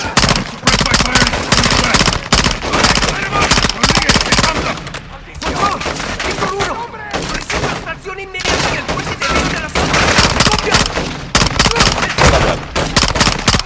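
Gunfire in the video game Call of Duty Modern Warfare II: loud, dense bursts of rapid automatic fire and single shots that go on almost without a break, with voices shouting under and between the volleys.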